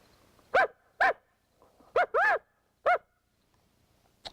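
Five short, harsh barks from a reed predator call imitating a coyote, sounded close and spaced irregularly with silent gaps between.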